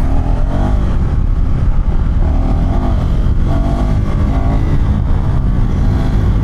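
A KTM 390 Adventure R motorcycle engine revs loudly and steadily close by, its pitch shifting up and down over a constant rumbling roar.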